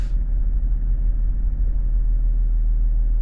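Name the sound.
Range Rover L322 air suspension compressor running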